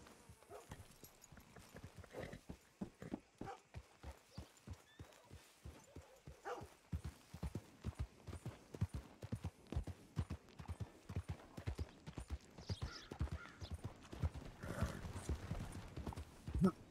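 Galloping horse in Red Dead Redemption 2, a steady run of rapid hoof clip-clops close by, with a brief whinny and some rustling tack toward the end.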